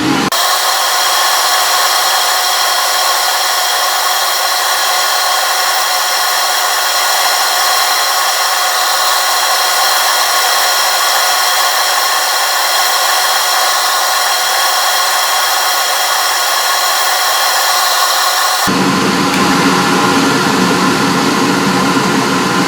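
A wooden pencil blank spins on a lathe while a tool works it down toward the bushing, a continuous hissing scrape that holds steady and then changes abruptly near the end, with no talking.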